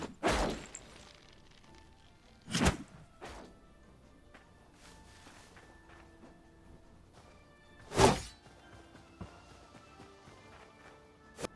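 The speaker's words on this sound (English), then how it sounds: "You might say it's just a rock being thrown at a tree, right?" A rock thrown at a tree in the Hytale video game: three or four heavy, sharp impact whacks spread several seconds apart, with faint thuds and quiet ambience between them and no talking.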